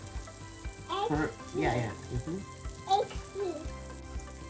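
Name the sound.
butter sizzling in frying pan with eggs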